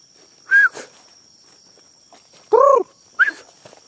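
Hunting dogs, among them a small female, bay on a night hunt, likely after an armadillo: three separate loud howling bays, close by, over a faint steady insect hum.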